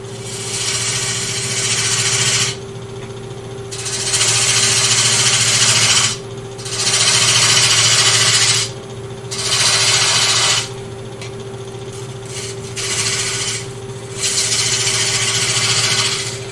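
A woodturning gouge cuts a glued wooden vase spinning on a lathe, sending out loud, rough scraping bursts with short pauses between passes, all over a constant low motor hum.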